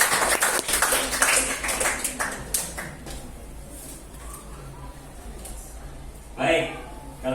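A class of twelfth-grade students in a classroom clapping together, a dense burst of applause that fades after a couple of seconds into quieter room noise and a voice talking.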